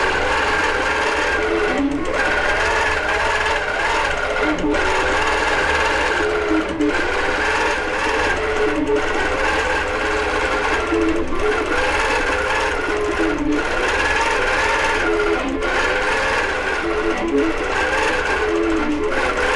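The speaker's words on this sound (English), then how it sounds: "I'm ready to have this start stitching out, and I can show you what the stitching looks like." An embroidery sewing machine stitches out a design, running continuously and loudly at close range with a steady, buzzing rhythm and regular slight pauses every couple of seconds.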